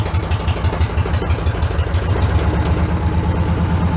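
A Cushman meter maid vehicle's engine runs steadily in third gear, a loud, close, continuous low rumble with a rapid throbbing pulse and no voices over it.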